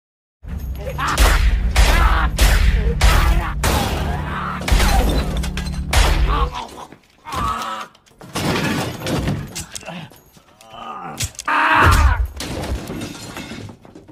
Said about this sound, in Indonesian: untuk anak buahnya sendiri akan menghadapi Pris yang kemudian baku tembak pun terjadi.